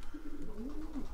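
Young racing pigeons coo softly and continuously, low throaty calls rising and falling at close range with no talk, while the birds are being readied for a 333 km race.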